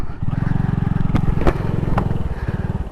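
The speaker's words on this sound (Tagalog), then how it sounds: "konti-konting pihit lang, papakiramdaman nyo lang ngayon hanggang umandar yung motor" A motorcycle engine idles and pulses steadily while the rider throttles gently through a turn, a close, rhythmic low putter with a few sharp clicks or scrapes and faint talk underneath.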